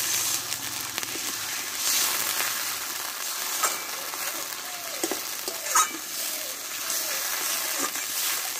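Potatoes for alur dom stirred with spices in a pan, a steady close scraping and soft sizzle with a few sharper clinks of the spoon against the metal.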